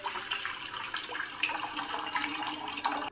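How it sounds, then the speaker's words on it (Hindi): About a glass of water poured into a cooking pan for a home asthma remedy, a steady splashing, gurgling pour that fills the clip, close and even, with no one speaking. "इस पैन में आप 1 गिलास पानी के अराउंड ऐड कर लीजिए।"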